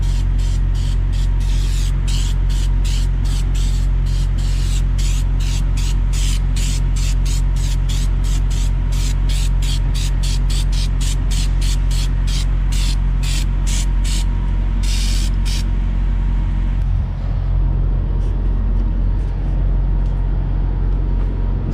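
Lubricant sprays onto a truck trailer's worn tandem slider in a long run of short, rhythmic hissing bursts, loud and close, over a steady low engine rumble. The bursts stop near the end and only the rumble remains.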